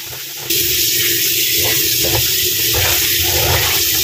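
Chopped guso seaweed washed under running water, a sudden loud gush of flowing water that starts after a brief quiet moment and continues steadily, close by with no talking.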